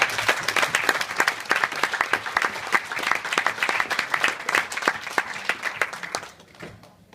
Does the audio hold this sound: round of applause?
yes